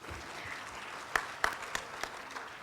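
Scattered claps sound from an audience at a school prize day for the middle and senior school. The applause is light and uneven, with a few sharper individual claps standing out over a soft background hum.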